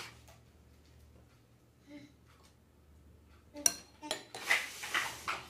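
Homemade clay being mixed with oil in a bowl, with faint scrapes at first, then a burst of loud clinking and scraping of utensil against the bowl in the last two seconds.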